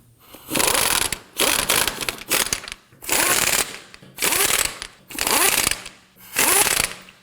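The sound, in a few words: ratchet snugging down lug nuts on Nissan Murano wheel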